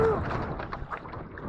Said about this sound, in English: That wind is strong.